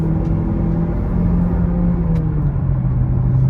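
A 2020 GMC Terrain's 170-horsepower 1.5-liter engine pulls hard on the interstate, a steady low drone with a slowly sliding tone under road rumble, heard from inside the cabin without talk.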